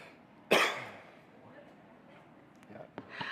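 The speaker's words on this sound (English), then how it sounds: "let him cough this out" A single sharp, loud cough bursts out from one person during an organization's opening ceremonies and annual general meeting, then fades into quiet room tone with a few faint small noises afterward.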